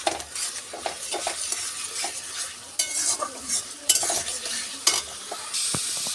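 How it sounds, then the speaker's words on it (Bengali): Spice masala for chicken curry is stirred and fried in a pan, giving a steady sizzle broken by repeated scraping and clinking of a spoon against the metal. "বা সমস্ত মশলা একসঙ্গে আমি ভালো করে কষিয়ে নেবো 10 থেকে 15 মিনিটের মতন।"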